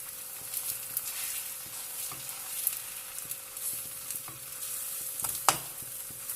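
An onion paratha cooking on a hot pan sizzles softly and steadily up close, with faint light taps and a sharper clink near the end, no talking.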